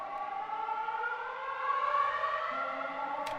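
Storm siren from the video game Pacific Drive, a steady, wide wailing tone that holds and swells slightly in pitch for a few seconds, heard alone at moderate volume.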